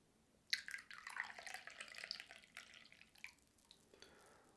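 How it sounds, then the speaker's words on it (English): Tea trickles from a pot into a teacup during an early morning guided meditation, a soft, close, irregular stream of splashes and drips running for several seconds with no talking. "the sound as you pour the tea into the teacup"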